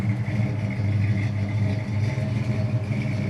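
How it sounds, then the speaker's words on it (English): Numbers-matching 400 V8 of a 1974 Pontiac Firebird Formula with dual exhaust idles steadily nearby, a loud, even low rumble with no talk. "numbers matching 400 and 3-speed automatic transmission. Really nice sound and dual exhaust."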